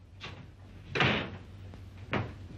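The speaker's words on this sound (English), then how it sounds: "Close that door." A door in an old house is pushed shut with a few soft knocks and swishes followed by a heavier thud, all close by and with no talk.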